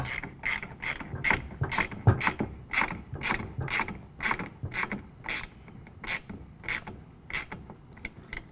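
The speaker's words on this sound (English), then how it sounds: "we're going to use a 14mm to tighten that down" A ratchet wrench with a 14mm socket tightens a clamp while installing a RetraxPRO XR tonneau cover on a truck bed rail. Crisp, close clicks repeat in a steady, even rhythm throughout, with no talking.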